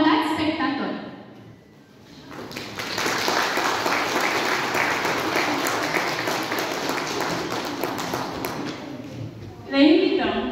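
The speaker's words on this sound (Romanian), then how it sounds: "Aplaudați, spectator!" An audience applauds at a high school's Romanian National Day performance: sustained, full clapping fills the middle of the clip. A voice speaks just before the applause and another just after.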